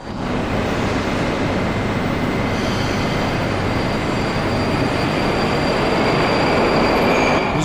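Steady, loud rumble of metro trains at the marble-columned Komsomolskaya station platform in Moscow, a continuous roar with faint high squeal tones partway through and no talking.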